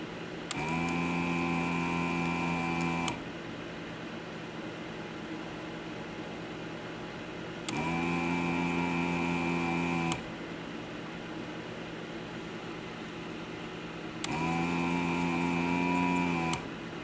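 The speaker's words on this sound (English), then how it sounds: "let me turn on the smoke absorber so that it will draw the smoke away from me" A smoke absorber fan at a soldering bench, used while working on Apple //c keyboards, hums in three separate bursts of a few seconds each. Quieter background hiss fills the gaps between the bursts.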